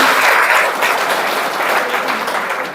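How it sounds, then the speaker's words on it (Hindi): Dense applause from an audience at a spiritual class in an ashram, loud and continuous throughout with no talking over it. "वेरी गुड, ताली बजाओ अपनी"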